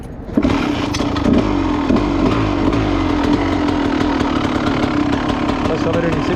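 A kick-started motocross dirt bike engine runs steadily and loudly nearby, a raspy two-stroke-style buzz with a fast pulsing beat throughout.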